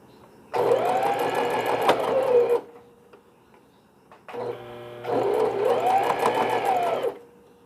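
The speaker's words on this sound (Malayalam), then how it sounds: "ബാക്കിൽ നിന്നാണ് ഞാൻ പൈപ്പിംഗ് അടിക്കുന്നത്." A sewing machine stitches white piping onto a newborn baby bonnet in two loud, close bursts of rapid whirring needle strokes, separated by a short pause with a slower, stuttering restart.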